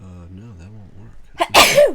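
Someone sneezes loudly and close up right after speaking calmly during a two-player playthrough of the Stonespine Architects board game.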